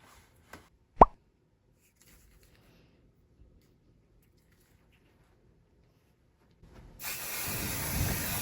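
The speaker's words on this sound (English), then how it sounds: "I'm just quickly spraying them away from my sewing machine" A couple of soft taps, then a steady hissing spray of basting adhesive from an aerosol can onto fabric starts near the end and continues until the clip ends.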